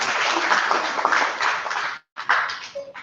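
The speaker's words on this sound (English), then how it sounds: "you over there clapping" Crowd applause fills a gathering, a dense, steady wash of many hands clapping that breaks off briefly before resuming, with faint voices beneath.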